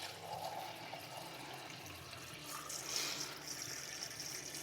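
Water pours steadily into a pot holding two cups of rice, a continuous splashing rush that swells slightly near the end, close and alone with no talking.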